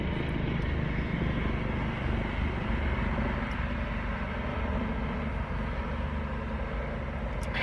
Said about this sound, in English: Oh, that's a helicopter.